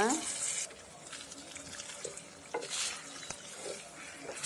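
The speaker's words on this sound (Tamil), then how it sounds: "இப்போ எண்ணெயில் மிக்ஸ் பண்ணிவிட்டு மாங்காயெல்லாம் எடுத்து அதில் போட்டு மிக்ஸ் பண்ணுங்க." Mango pieces being stirred into oil with chilli powder in a pan give a soft scraping, swishing churn with faint sizzle, mixed with background noise throughout.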